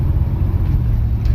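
A car rumbles low and steady while it is shifted into gear, the engine drone close and continuous with no distinct clunk standing out.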